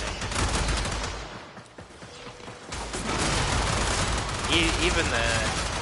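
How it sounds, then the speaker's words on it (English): Heavy gunners opening fire in the video game Warframe, a loud, continuous burst of rapid gunfire with mechanical clatter filling the whole stretch, briefly dipping midway before surging again. "the heavy gunners are fired at me at light speed"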